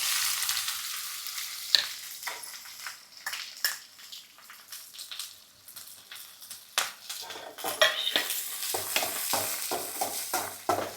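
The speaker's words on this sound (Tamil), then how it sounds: "இப்போ பாருங்கள் வெங்காயம் ரெண்டு நிமிஷம் நான் வதக்கிட்டேன்" Onions sauté in a pan for a drumstick-leaf stir-fry, an uneven sizzle beneath frequent scraping and clinking stirs of a utensil against the metal, close by and swelling and easing throughout.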